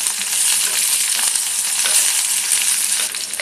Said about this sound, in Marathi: आता आपण ही भेंडी कापलेली आहे ती घालूया.